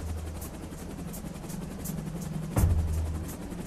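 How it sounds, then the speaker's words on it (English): A helicopter on an oil platform whirs steadily as it prepares to depart, its rotor drone continuous and moderately distant, with a louder thump near the end. "40 kilometers away, another helicopter is about to leave an oil platform."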